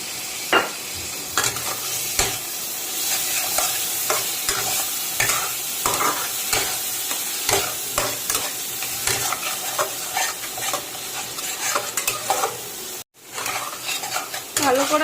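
Spice masala and yogurt being sautéed for rohu fish kalia, with steady loud sizzling and constant clattering stirring of a spoon against the pan, close up and unbroken apart from a brief drop near the end.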